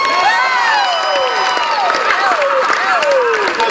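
A theme park audience at a 101 Dalmatians presentation cheers and applauds loudly and continuously, with whoops and shrill shouts rising above the clapping.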